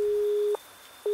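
In an RPG video game, a steady electronic phone tone sounds, breaks off for a short pause and then starts again, clean and alone.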